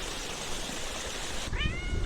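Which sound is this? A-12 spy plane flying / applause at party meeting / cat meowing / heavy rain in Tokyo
cat meowing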